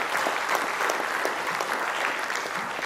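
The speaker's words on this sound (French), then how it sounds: "Je crois que vous pouvez l'applaudir." Steady, full applause from an audience at a closing ceremony for an archaeology conference, dense clapping that stays even throughout.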